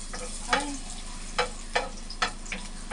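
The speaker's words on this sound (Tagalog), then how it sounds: "Put my garlic first." Garlic frying in hot olive oil in a home kitchen pan, a soft steady sizzle broken by several light scraping stirs, close and fairly quiet with no voices.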